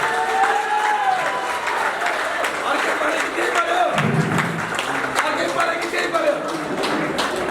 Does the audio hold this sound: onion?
no